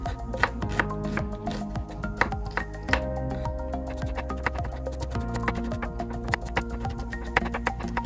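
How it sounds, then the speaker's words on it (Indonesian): A knife slices shallots on a chopping board for nasi bakar, with quick, sharp, close taps repeating in an uneven rhythm throughout. "Setelah itu iris-iris juga bawang merahnya."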